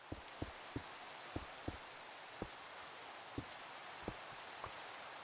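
Steady rain in the video game Minecraft, a constant even hiss with light, evenly spaced droplet taps, heard alone without any voices.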